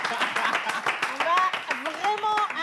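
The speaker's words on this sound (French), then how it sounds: "Applaudissez pour vous-même." An audience at a Christmas Eve show claps steadily throughout, with a voice talking loudly over the applause.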